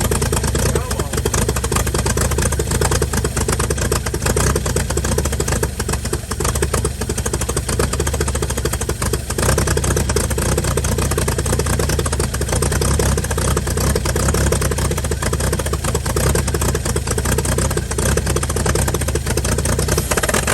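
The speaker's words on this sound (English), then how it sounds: "so hopefully we can get her to fire up" A 1955 Chevy truck engine, revived after sitting for 30 years and fed gas through the carburetor, runs steadily and loudly with a rough, knocking idle throughout.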